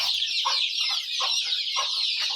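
A flock of desi country chickens and roosters on a farm clucks in quick repeated bursts, loud and close, over a steady bright background din.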